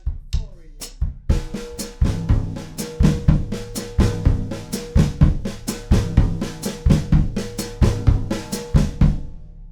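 A drum kit plays an outward paradiddle groove with a samba bass drum foot pattern, sharp, evenly spaced snare and cymbal hits over a steady kick, played slowly, close and clear with no talking.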